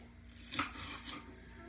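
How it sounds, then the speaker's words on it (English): A knife thinly slicing onions on a cutting board, a single soft crisp cut standing out over low steady background hum, close and brief. "I'm going to try to cut these super thin so the kids won't know that there's onions in here."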